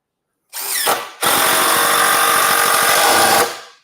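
A compact impact driver fires in a short burst, pauses, then drives a screw into framing lumber with a loud, continuous rattling hammer for about two seconds before stopping, heard up close.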